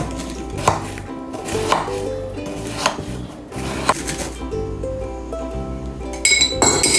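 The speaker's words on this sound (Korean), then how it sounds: "아까 만들어둔 잔에 제가 들어갈 틈이 좀 생길 수 있도록 몇 번 파줄게요" A bar tool pokes into a prepared cocktail glass of ice several times, giving bright clinks and crunchy knocks in a loose rhythm, close and fairly loud, with no talking.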